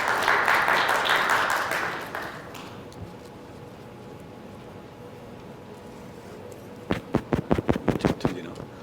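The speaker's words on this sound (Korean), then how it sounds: "여러분 큰 박수로 모시겠습니다" Audience at an indoor industry forum applauds the arriving provincial governor, a moderate burst of clapping that fades after about two seconds, followed by a few sharp separate claps near the end.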